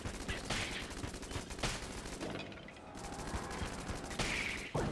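Rapid gunfire from Enter the Gungeon crackles in dense repeated bursts, loud and close, with sharp volleys near the start, middle and end and only a short lull between.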